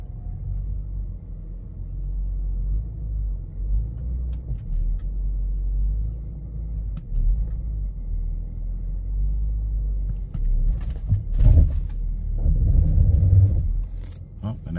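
BMW car with a slipping, leaking transmission that keeps dropping into park, its engine rumbling low as it strains up a ramp after warming up, growing louder toward the end.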